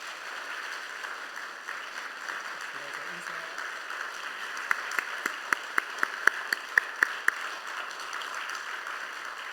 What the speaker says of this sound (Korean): 우리 큰 박수로 환영해 주시고 또 축하해 주시면 감사하겠습니다.